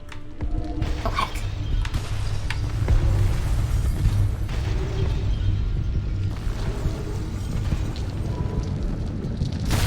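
Bombs going off in the video game Tales of the Neon Sea, a dense continuous rumble of loud booming explosions with thuds and bursts layered over one another throughout, no voices.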